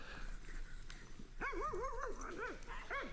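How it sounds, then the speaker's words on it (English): Dogs yip and whine in a string of short rising-falling yelps, moderately distant, outdoors on a golf course over faint background noise. "there was a lady with like 3 dogs walking right behind Fish, and they were barking when he threw that shot"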